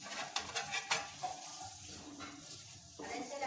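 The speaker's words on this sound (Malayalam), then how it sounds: "ഇപ്പൊ ചെറുങ്ങനെ തിളച്ച് തുടങ്ങിയിട്ടുണ്ട് കേട്ടോ" Paneer butter curry just beginning to simmer in a pan gives soft bubbling and light sizzling, with a few faint clinks of a utensil.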